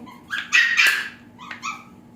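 Small dogs giving high yips and whimpering barks up close, a quick burst followed by a shorter whine.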